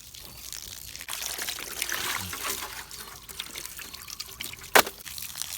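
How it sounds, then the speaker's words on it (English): Water trickles and splashes as a portable dish is rinsed and its contents spilled out, close and continuous, ending with a sharp knock. "Rinse it and spill."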